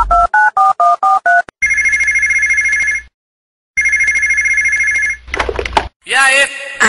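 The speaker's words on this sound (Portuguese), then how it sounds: "ligou no meu telefone." Within a Brazilian funk song, a loud telephone sound effect plays: a quick run of dial tones, then two long electronic ring bursts separated by a gap, followed by voices.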